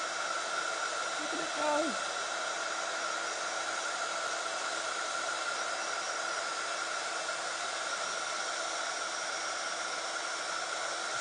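A handheld heat tool blows hot air steadily to melt embossing powder, a constant loud whooshing hiss with a brief voice speaking early over it.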